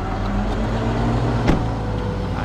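A Ram 3500 truck engine idles with a steady low rumble, holding even throughout with a brief sharper knock near the middle.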